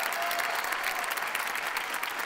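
A studio audience at a Marathi TV comedy show gives sustained, even applause. The thick clapping fills the moment without pause.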